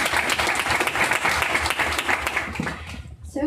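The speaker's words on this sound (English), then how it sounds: "Let's give him a big round of applause." A big round of applause from the audience at a startup speaker event, loud, dense and steady clapping that fills the whole moment and stops abruptly at the end.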